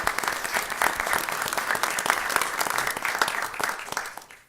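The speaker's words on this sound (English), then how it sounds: "Nice round of applause for Dana," An audience at a school board meeting gives a short, steady round of applause, close and continuous before tapering off at the end.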